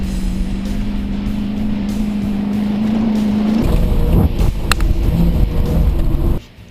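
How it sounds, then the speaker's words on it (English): An old police cruiser in a Chevy-versus-Ford dirt-track battle drives through soft dirt, its engine droning steadily, then dropping into a lower, labored, bogging rumble with bumps and clunks before fading off. "I hear the engine bogging down through the really soft stuff"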